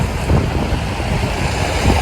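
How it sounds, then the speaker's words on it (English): Gusty wind buffeting a microphone in Rome, a low, rumbling roar that swells and fades in bursts, loud and close with no voices. "it's very windy at the moment, so very windswept"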